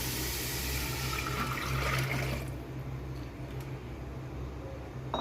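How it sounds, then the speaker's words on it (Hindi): Yogurt, gram flour and water batter poured into a pan of fried masala for kadi pakora, a steady liquid rush that softens partway through over a low hum, no talk. "अब जो दही हमने बेसन और पानी अच्छी तरह मिक्स किया था वो ऐड कर देंगे"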